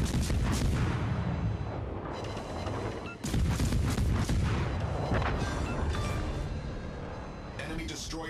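Destroyer blowing up in the naval battle game World of Warships Legends: loud, dense booming blasts and rumbling gunfire fill the whole stretch, with a sharp new burst partway through, while a voice talks over the action.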